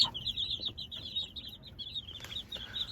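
Chickens clucking softly with high, repeated chirping calls, a close, continuous chatter of fowl and no talking.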